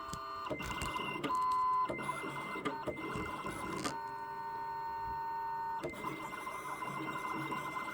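A Siser Juliet cutting machine runs a cut job, its motor whirring steadily with repeated start-stop shifts in pitch as the carriage moves, close and clear with no talking.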